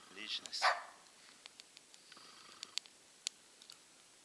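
A dog barks a few times out in snowy taiga, faint and distant, followed by quiet open-air stillness broken by small scattered ticks and clicks.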